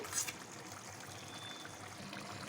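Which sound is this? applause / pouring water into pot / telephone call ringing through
pouring water into pot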